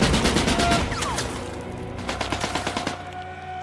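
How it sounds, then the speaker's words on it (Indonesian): In a war-film scene about a German soldier, rapid bursts of machine-gun fire rattle loudly and continuously, then break into a looser run of separate shots. "Paul pun harus tewas akibat terkena tembakan tepat di kepalanya"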